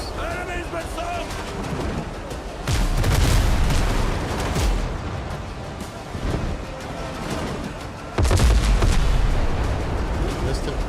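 Cannon fire from ship guns during a naval battle in the pirate game Windrose, with heavy booming blasts near 3 and 8 seconds amid continuous battle noise and game sounds.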